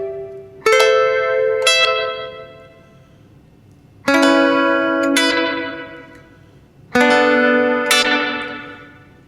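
Electric guitar through a Champion Leccy Skitter reverb pedal switched to its darker tone, three strummed chords each ringing out into a long, washy surf-style reverb tail that slowly decays before the next strike.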